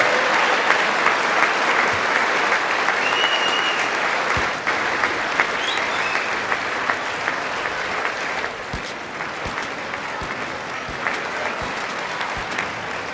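A large audience at a State of the Union address applauds continuously and loudly, a dense wash of clapping that fades slightly over its length, with a few sharper claps standing out.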